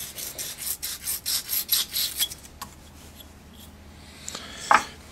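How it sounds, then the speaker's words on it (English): A small piece of sandpaper rubs in quick back-and-forth strokes over a wood stem wine glass part being prepared for glue. The rasping is rhythmic and close for a couple of seconds, then stops, followed by a faint clunk. "I'm going to just use a little piece of sandpaper to get that ready to receive glue a little bit better"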